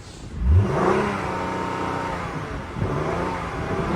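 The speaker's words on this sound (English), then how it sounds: "Let's give it some revs first, because we have a check engine light in here." A car with a check engine light on is revved hard at a salvage auction lot, giving one quick loud climb in engine pitch that settles into a steady high idle hum and then rises again briefly, close up with no talk.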